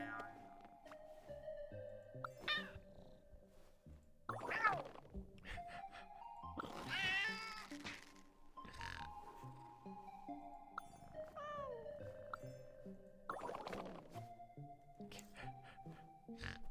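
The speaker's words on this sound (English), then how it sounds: "Pet the kitty." A cat in Genshin Impact meows repeatedly while being petted, several drawn-out, rising and falling mews spaced across the stretch over soft game music, loud and close.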